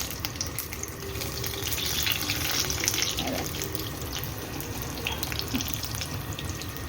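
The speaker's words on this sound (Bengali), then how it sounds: "এই হলো বেগুনি ভাজা চলছে" Steady sizzling hiss of eggplant fritters frying in hot oil over a low gas flame, with crackling pops scattered throughout, close and continuous.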